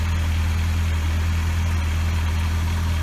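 A Honda CB750 Nighthawk motorcycle engine running steadily, a loud, constant low hum with an even idle-like drone throughout and no speech.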